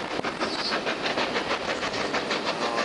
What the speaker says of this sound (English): Oh, here we are, crossing over just viaduct of Horseshoe Curve.